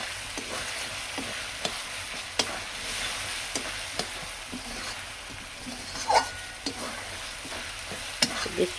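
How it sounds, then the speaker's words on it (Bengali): Ginger, garlic and onion sizzle in a pan while being stirred, with a constant frying hiss broken by irregular scrapes and clacks of the utensil against the pan. "তো দেখো আদা রসুন পেঁয়াজ সব কিছু ভাজা হয়ে গেছে"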